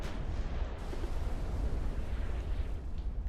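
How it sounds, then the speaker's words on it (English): A torpedo strikes a battleship in the naval warfare game Ultimate Admiral: Dreadnoughts, heard as a deep, rumbling boom that rolls on steadily without breaks, loud and close, with no talking. "we got a torpedo hit on his battleship"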